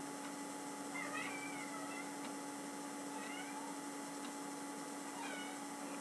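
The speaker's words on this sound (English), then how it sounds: "That was my cat just meowing" A house cat lets out a few short, faint meows at intervals over a steady electronic hum, with no other sounds standing out.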